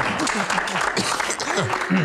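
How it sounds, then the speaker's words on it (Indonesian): An audience at an Indonesian stage show applauds in a steady wash of clapping, with voices talking over it throughout. "tepuk tangan dong"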